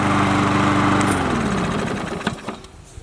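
A Troy-Bilt push lawn mower's small engine runs loud and close with a steady buzzing chug, then winds down and fades over the last second with a few clattering knocks.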